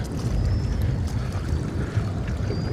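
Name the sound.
storm wave splashing into fishing boat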